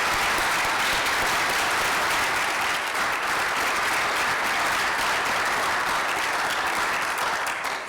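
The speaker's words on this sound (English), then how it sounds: "if we could all give them a round of applause" Steady, full audience applause at an education technology conference keynote, a dense even roar of many hands clapping sustained across the whole stretch at consistent loudness.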